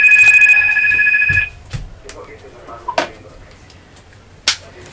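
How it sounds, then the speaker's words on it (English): A phone rings with a bright repeating electronic tone for about a second and a half and then stops, followed by faint handling clicks and rustles. "My phone's ringing."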